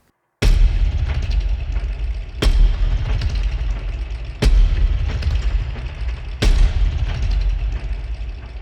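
Pinball machine sound effects layered over a dark, dread-building music cue land as four heavy, booming hits spaced about two seconds apart, each decaying into a sustained low rumble, loud and close.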